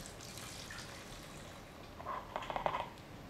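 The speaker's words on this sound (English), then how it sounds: "and pour in your vinegar." Vinegar is poured through a funnel into a bottle, a faint, brief trickle and splash over low room hiss.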